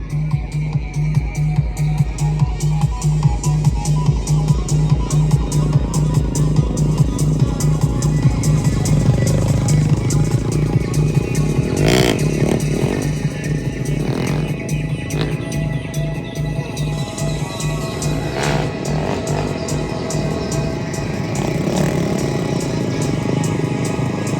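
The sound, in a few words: beatboxing imitating a TVS motorcycle engine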